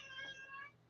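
A pet cat meows indoors, a drawn-out, clear call lasting about a second at moderate loudness, with no talking over it.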